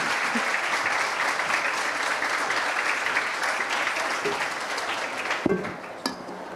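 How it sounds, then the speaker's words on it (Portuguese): Audience applause at an environment panel at the Rio book fair, a loud continuous crowd of clapping hands that thins and tapers off near the end with a couple of stray bumps. "Vamos aplaudir mesmo, assim."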